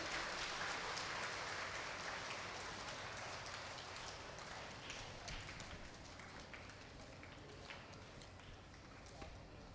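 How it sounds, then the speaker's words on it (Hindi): A ceremony audience applauds, a dense, loud wash of clapping that starts strong and slowly thins over several seconds, with no clear voices on top. "तालियां बजती रहनी चाहिए भाई।"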